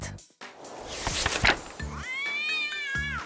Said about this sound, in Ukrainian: ззаду до них підкрався злий кіт